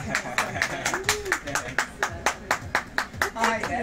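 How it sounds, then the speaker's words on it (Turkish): Audience at a Ramadan festival event in Dortmund claps in a steady, quick rhythm for a master artist, individual hand claps sharp and evenly spaced, with a voice speaking faintly over the clapping. "Evet, ustamızı bir alkışlar mıyız?"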